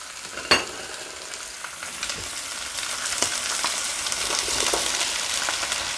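Coarsely chopped onion hitting a hot pan for Jamaican curry quail, a sharp initial crackle swelling into a steady, loud sizzle that holds throughout.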